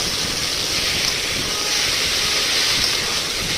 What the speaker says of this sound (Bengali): এখন আমার শাকটা দিয়ে দিল,